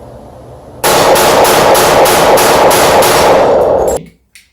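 Pistol fired during tactical shooting practice: a loud, rapid string of about ten close shots over roughly three seconds, then abrupt quiet with a faint trailing knock.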